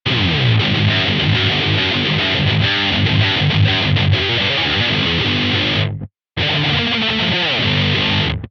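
An electric guitar tuned to drop G roars with heavy distortion through an Avid Eleven Rack, loud and dense with chugging low riffs, cutting to silence for a moment when the noise gate closes before the playing resumes.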